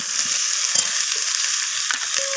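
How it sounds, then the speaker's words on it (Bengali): Vegetables stirred in a hot pan with spices and ginger paste, giving a steady, loud sizzle of frying throughout, with soft scraping of the stirring utensil at a few points and no voices. "তো আদা বাটাটা দিয়ে আমি আবারও নাড়াচাড়া করে সবজির সাথে এইভাবে কষিয়ে নিচ্ছি।"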